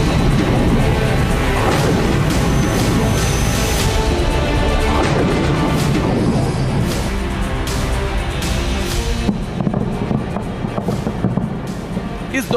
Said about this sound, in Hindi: इस दौरान धमाकों की आवाज कई किलोमीटर दूर तक सुनाई दी